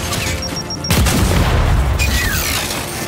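Frag grenade explosion in Gears 5 on Insane difficulty, a loud close boom that cuts in abruptly and rumbles on under continuing combat noise, with a second blast-like surge shortly after.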